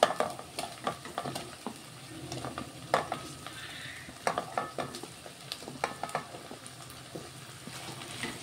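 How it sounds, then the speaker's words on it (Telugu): Cut potatoes added to frying onions in a pan for a meal maker and potato masala curry, a soft sizzle broken by repeated scraping, clattering stir strokes in an uneven rhythm, close and moderate in volume. "ఇప్పుడు ఇందులో కట్ చేసుకున్న ఆలుగడ్డలు వేసుకుంటాను"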